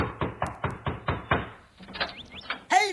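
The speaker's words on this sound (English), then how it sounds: "another knock came at the door." A radio drama sound effect of knocking at a door: six evenly spaced sharp raps, then a looser cluster of softer taps and chirpy squeaks before a brief bright tone at the end.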